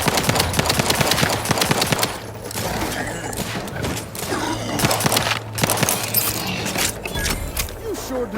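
Rapid automatic gunfire in the video game The Outer Worlds 2, dense bursts of shots close up with short pauses between volleys, over a low steady hum and some talk mixed in.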